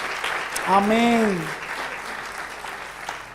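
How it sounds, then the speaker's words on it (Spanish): Congregation applause in a church service, broadband clapping running throughout at moderate level, with a voice calling out over it near the start. "¿Puede dar un aplauso por eso?"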